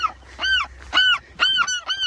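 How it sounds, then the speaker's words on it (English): Seagulls on Anacapa Island give loud, close calls in four harsh, honking bursts spaced evenly about half a second apart, with no voices. "All these seagulls."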